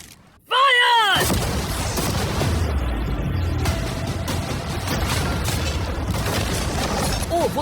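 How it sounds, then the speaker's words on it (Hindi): Cannons fire at a new yacht: after a short sharp sound, one loud close boom hits, then a long roaring rumble of impacts and debris carries on with faint clatter. "अब हम तुम्हारी नई यॉट पर कैनन्स को शूट करने वाले हैं"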